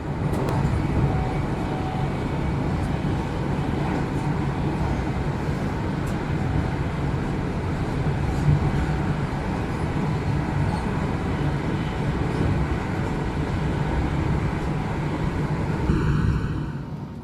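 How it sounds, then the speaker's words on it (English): Continuous low rumble and rattle inside a moving train carriage, steady throughout with faint clicks and creaks, no voices. "A very welcome return to the train."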